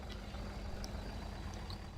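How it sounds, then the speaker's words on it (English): A truck drives along in Farming Simulator 2013, its engine a low steady drone with faint high beeps and clicks scattered over the top, fairly quiet and unbroken. "I think I'll use the truck, just because it's nice and fast."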